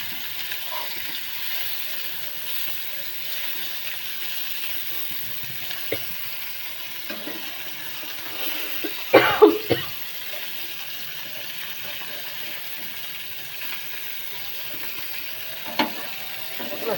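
Bombil fish fry in a pan, giving a steady, soft oil sizzle throughout with a few louder crackles and a brief burst near the middle, heard fairly close with no talking.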